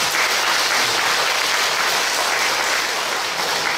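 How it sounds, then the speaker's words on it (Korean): A Won Buddhist temple congregation gives an encouraging round of applause, a full, steady wash of many clapping hands at an even, fairly loud level. "격려의 박수 다시 한번 드려주십시오"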